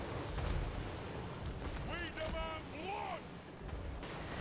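Trollhammer torpedoes firing in a Warhammer battle video game: muffled booming shots under a dense rumble of battle, with faint rising and falling tonal whines in the middle.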